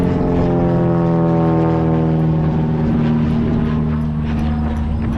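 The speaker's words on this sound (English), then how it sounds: "Oh, there's a plane." A propeller airplane flies low near a small airport used for skydiving, its loud, steady droning hum with strong engine harmonics carrying on unbroken with no talk.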